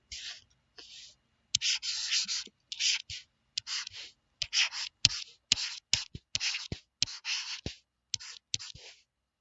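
A marker or pen writes a math expression on a board, producing a run of short, close scratching and squeaking strokes with small taps between them, irregular in rhythm and heard alone without speech.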